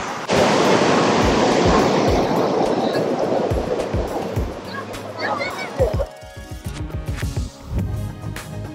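Sea waves roll in at Mandarmani beach as a loud, continuous rushing surf for about six seconds, then ease into softer, broken washes. People talk nearby over the water.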